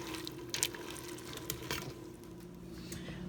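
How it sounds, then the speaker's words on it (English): Water being poured into a pot of 15 bean soup in a home kitchen, a quiet steady splashing stream with a few brief brighter splashes, no voices. "I'm going to go ahead and add some more water."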